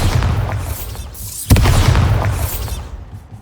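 A Bombarda spell explosion in Hogwarts Legacy, one sharp loud blast midway over a rumbling game background, followed by a fading roar and debris crackle.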